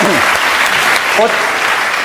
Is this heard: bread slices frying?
no